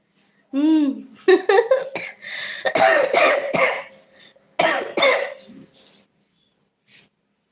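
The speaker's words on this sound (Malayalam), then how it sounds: "ഇവിടോട്ട് വന്നിരുന്ന് മൂക്കുവലി തുടങ്ങി ചുമ തുടങ്ങി" Repeated human coughing, several close, loud bursts in quick succession with short pauses between, followed by a final faint cough after a brief silence.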